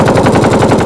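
An AK-47 rifle fires a loud, rapid automatic burst, roughly a dozen sharp cracking shots in even succession with no pauses, close and dominant.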